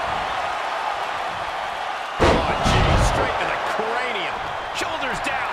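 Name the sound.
wrestling elbow and basement drop kick impact in WWE 2K23 video game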